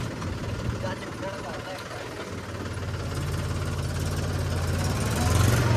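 A Mahindra 265 tractor engine idles with a steady low knocking chug, moderately loud and close, rising a little toward the end, while someone talks over it.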